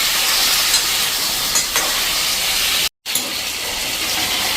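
Two large potatoes tipped into a hot pan and stirred for a dry Gujarati potato bhaji, a steady close sizzle and scraping with a short break near the end, no voices.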